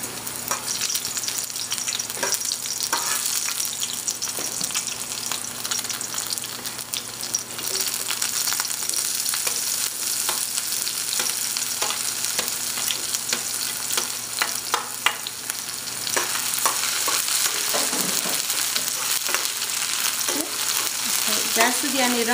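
Garlic and one or two chilies frying in oil over low heat, a loud, continuous close sizzle with occasional crackles and faint stirring throughout.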